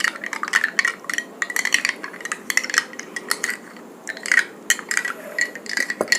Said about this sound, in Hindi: आटा और पानी को घोल रहे हैं